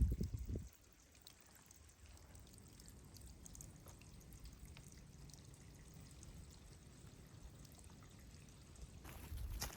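Water pours from a trailside spring pipe on the Appalachian Trail, a faint, steady trickle that runs continuously at a distance, framed by brief louder knocks at the start and the end.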